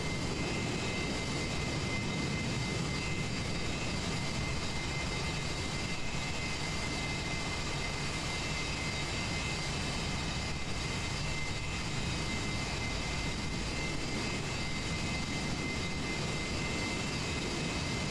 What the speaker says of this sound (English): Same staggered takeoff on CNF side.